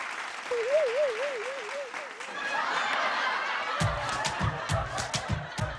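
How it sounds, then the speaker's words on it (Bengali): A studio audience on a family game show breaks into clapping that grows into steady, loud applause, with chuckles and snickers in the crowd and a brief whistle-like tone near the start. "জোরে হাত তালি।"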